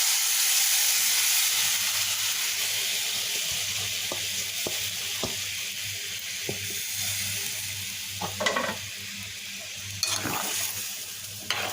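Taro stolons cook in coconut milk in a pan, making a constant hissing, bubbling simmer close by, marked by occasional spatula knocks and a few louder scraping stirs toward the end.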